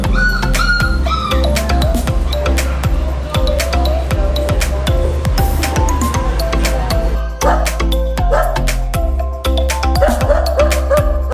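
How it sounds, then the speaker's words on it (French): Many dogs barking, yipping and whimpering all around in a village in Bali, a dense and busy chorus of overlapping barks at close range with no pauses. "Mais check ben ça, c'est plein de chiens."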